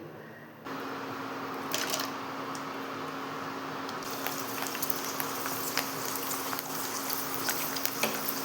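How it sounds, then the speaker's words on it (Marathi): Fasting-style popcorn fries in hot oil, producing a continuous bubbling sizzle that starts abruptly and holds steady, with faint crackles and no speech. "आता ह्याला आपण तळून घेऊत."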